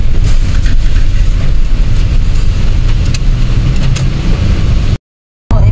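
Loud, continuous street traffic during a town fiesta in Silang, Cavite, engines rumbling and droning close by, with a brief dropout near the end.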